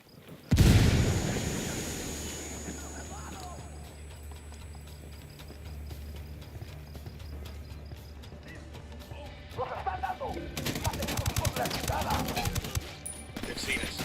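In Ghost Recon Wildlands, a grenade goes off with a sudden loud blast and a long fading rumble, followed later by rapid clattering bursts of gunfire.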